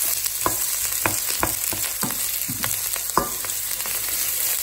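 Onions and quesadilla fillings fry steadily in a pan, giving a constant close sizzle with occasional sharper pops and crackles and no voices.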